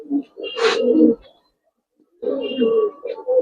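Pigeons coo in a loft, with two close bursts of soft rolling calls separated by a short silence and a brief rustle or flutter near the start.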